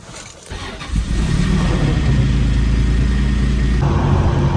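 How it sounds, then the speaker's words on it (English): Supercar engine revving hard in a sustained loud, rising roar after a brief quiet start, with a turbo blow-off hiss toward the end. "you hear the turbo just blow up out"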